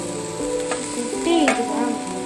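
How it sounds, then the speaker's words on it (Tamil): Grated carrot frying in ghee for carrot halwa, a close, steady sizzle broken by stirring scrapes and a sharp utensil clink. "இப்போ மீதி இருக்கிற நெய்யில் நம்ம துருவின கேரட்டை வந்து அதில் நிறம் மாறுற வரைக்கும் நம்ம வதக்கணும்"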